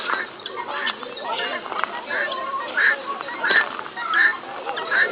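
Zoo birds honk and call in a noisy chorus of goose-like honks and squawks, close and loud, overlapping continuously throughout.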